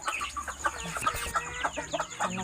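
Backyard chickens cluck busily while being fed, a dense, overlapping chatter of short clucks and murmurs from several birds close by, continuous and lively throughout.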